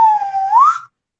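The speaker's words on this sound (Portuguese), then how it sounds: "Então, eu brinco um pouco com o apito de nariz." A nose whistle is played in a single sliding tone, holding steady then gliding upward before cutting off, loud and close with no other sound.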